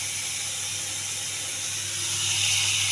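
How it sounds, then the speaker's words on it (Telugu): Oil sizzles in a pan for broccoli curry tempering, a steady close hiss that grows louder toward the end, with a low hum underneath. "బ్రోకోలీ తాలింపు వేస్తున్నానండి."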